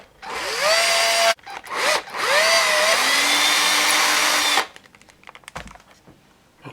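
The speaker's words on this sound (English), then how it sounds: "I've just drilled this out slightly." A loud power drill whines steadily in long bursts while drilling through a panel, its pitch rising as it spins up, then stops, leaving quieter handling clatter.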